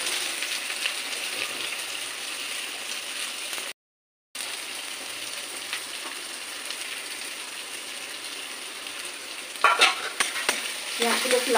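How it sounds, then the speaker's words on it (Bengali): Onions fry in hot oil, giving a constant bright sizzle with stirring scrapes. A brief silent gap interrupts it, and louder clattering stirs come near the end. No one speaks. "পেঁয়াজগুলো একটু লাল লাল করে ভেজে দেবো।"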